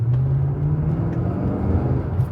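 A 2011 Chevy Camaro SS with its 6.2-liter V8 rumbles at idle, a steady deep low-pitched throb held close and loud with no break.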